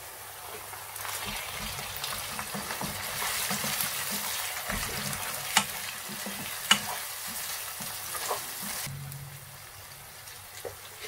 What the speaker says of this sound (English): Give it a good mix. We're gonna add the tomatoes in there.